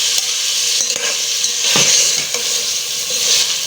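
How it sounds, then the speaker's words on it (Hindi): Carrots and peas tipped into a hot pan of oil for a vegetable tahari, sizzling and frying steadily while being stirred, with a few scraping knocks against the pan, close and loud, no talking. "अब मैं यहाँ डालूंगी इसमें ये गाजरें, साथ ये डालूंगी मटर,"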